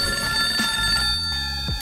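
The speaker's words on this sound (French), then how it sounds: "Téléphone m'a sonné. Qui est ça sonné?" A telephone bell rings within a song, a repeating trilling ring over a steady beat and sustained musical tones, loud and up front in the mix.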